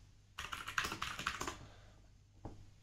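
A short command is typed on a computer keyboard as a quick burst of close, crisp key clicks. A single louder keystroke, like a press of Enter, follows after a pause.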